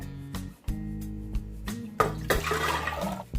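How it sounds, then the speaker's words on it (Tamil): Water pours and splashes into a pressure cooker holding chickpeas and peeled potatoes, a sustained rushing gush close by after a few brief clatters. "இந்த கடலை வேகிறதுக்கு தேவையான அளவு உப்பும் தண்ணி இப்போ நம்ம இதில் சேர்த்துடலாம்."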